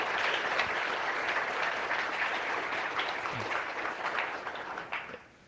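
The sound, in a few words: audience applause at a conference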